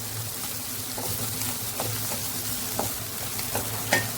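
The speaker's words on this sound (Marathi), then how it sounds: "एकदम बारीक कट करून घेतलेलं आहे दोन मिनटं गाजर परतून घेऊया" Peeled, finely chopped carrots sauté in a pan for vermicelli upma, giving a steady close sizzle with occasional soft scrapes and taps from stirring.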